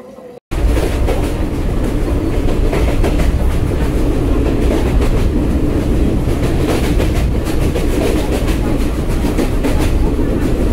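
The Banglabandha Express pulls out of Ahsanganj railway station, a steady loud rumble with rhythmic clickety-clack of wagons heard from onboard, continuous after a brief quiet start.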